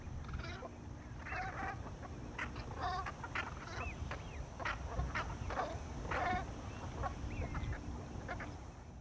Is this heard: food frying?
no